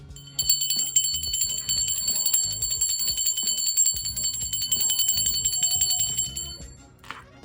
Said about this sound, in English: while I ring the bell for my spirit guides, guardian angels, and ancestors